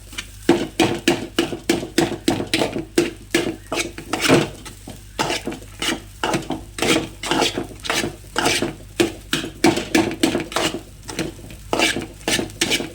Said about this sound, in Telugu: ఇప్పుడు అన్నం గుడ్డు మొత్తానికి పట్టే విధంగా కలుపుకుందాం.